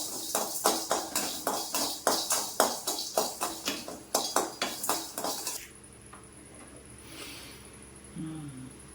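Rock salt and asafoetida dry-roasting in a pan, a utensil scraping and clinking against the metal in a quick steady rhythm for about five seconds, then stopping to near quiet.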